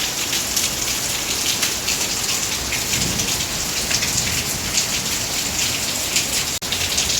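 Heavy rain pours down steadily, a dense, continuous hiss and patter with no break and no voices.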